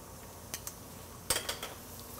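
Spinach being turned in a frying pan with a utensil, making a few light, sparse clinks and scrapes against the pan over quiet background, with no talking.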